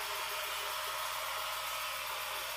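A pen-turning lathe spins at about 2,000 RPM for hand-buffing compound into a twist pen, giving a steady, even whir and hiss with a faint motor hum that holds unchanged throughout.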